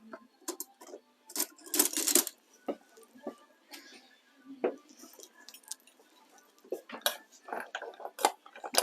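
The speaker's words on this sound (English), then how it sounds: "And stir it with a metal spoon." A metal spoon stirs melting chocolate and rum in a pot over very low heat, producing irregular clinks and scrapes against the metal, close and fairly quiet with gaps between strokes.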